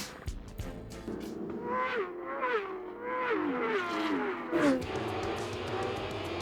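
A Suzuki superbike in an AMA Superbike race at Barber howls down the final straight, its engine note climbing and dropping through gear changes as it passes, with more bikes droning behind.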